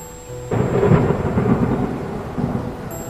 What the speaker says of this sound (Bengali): আজ সকাল থেকে বৃষ্টি পড়েই যাচ্ছে।